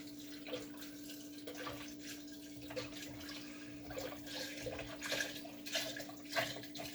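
Stock pours from a carton into a jar, splashing in uneven gurgling bursts, fairly quiet, with a steady low electrical hum beneath.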